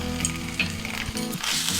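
Spice masala of ginger paste, turmeric and pepper stirred in a frying pan, a brief sizzle with scraping clicks from the spoon over a low kitchen hum.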